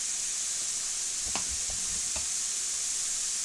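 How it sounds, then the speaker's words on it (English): Vegetables and onions frying in a pan for lasagna, a steady close sizzle with a few scraping stirs partway through. "The veggies are cooking."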